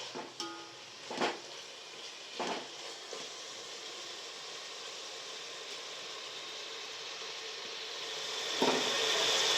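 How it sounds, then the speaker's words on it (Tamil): Chicken sautés in a pan for donne biryani with a steady close sizzle. A few scraping stir strokes come near the start, and the frying hiss grows louder toward the end. No one talks. "சிக்கன் வந்து லைட்டாக வதங்கட்டும்"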